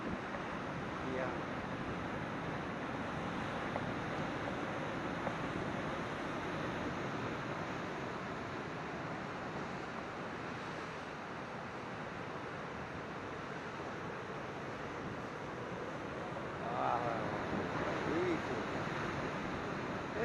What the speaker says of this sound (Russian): Видите, как бушует океан.